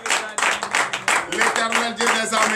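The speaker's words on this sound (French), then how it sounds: "Donnez de vives acclamations à notre Seigneur Jésus." Church congregation clapping hands during a morning prayer service in Comè, Benin, a dense steady patter of many hands close by, mixed with voices and singing.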